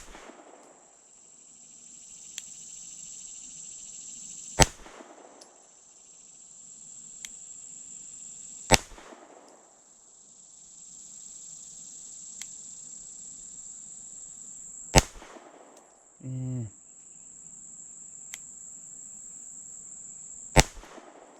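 Shadow Systems CR920P pistol fired outdoors at a range, four sharp loud single shots spaced several seconds apart, each with a short echo, over a steady background of chirping crickets.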